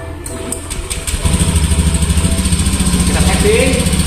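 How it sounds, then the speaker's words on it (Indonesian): A motorcycle engine catches and settles into a steady, close, throbbing idle that holds loud and even to the end, with some faint background noise. "Kita nyalakan motor."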